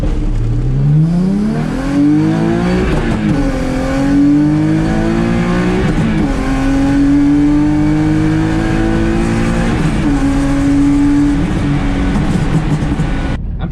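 A Nissan 350Z/G35-type car launches under hard acceleration, its engine note climbing steadily and loudly, with brief dips at each gear change around every three to four seconds, sustained and close throughout.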